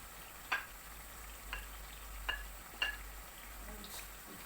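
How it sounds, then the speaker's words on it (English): Tomatoes and pepper fry together in a pan with a soft, steady sizzle, broken by a few sharp clinks of a spoon stirring against the pan, quiet and close with no talking. "And we fry everything together."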